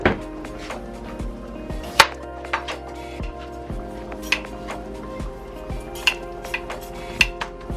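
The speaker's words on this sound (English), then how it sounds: "in the meantime, we're going to cut daikon." A knife chops daikon on a cutting board in a home kitchen, giving irregular sharp taps and clatters of utensils, fairly close and moderately loud, with no talking.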